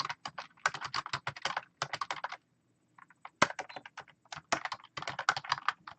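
Rapid bursts of typing on a computer keyboard, loud and close, in several runs separated by short pauses, with no talking over it.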